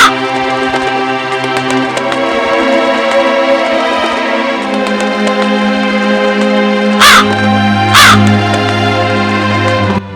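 A cartoon crow caws, loud and close, over a steady background music bed, with two sharp bursts standing out near the end.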